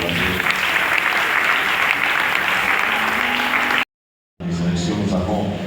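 A church congregation at a parish Christmas service breaks into loud, sustained applause that fills the room, briefly cutting out before resuming just as strongly.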